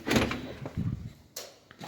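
A double door of a house swings open with a short rattling creak and soft thud, followed about a second later by another brief clack as the door moves again; close and fairly quiet, with no talking.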